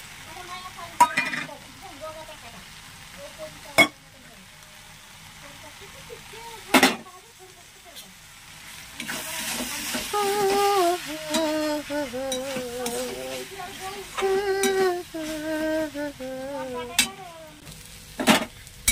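Mushrooms and shrimp fry in a pan with mustard-chili paste, giving a soft, steady sizzle broken by a few sharp utensil clanks and stirring scrapes, while a person talks over the cooking for much of the time.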